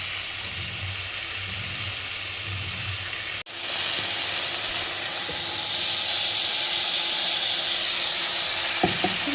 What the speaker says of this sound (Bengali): তাতে একটু টমেটো আদা পেস্ট দিয়ে এই তরকারিটা করে নেবো।